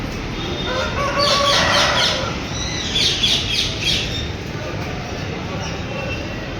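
Roosters rescued from slaughter crowing and squawking over a noisy Sunday market in Rajkot, several calls overlapping in the first few seconds, with people talking faintly in the background.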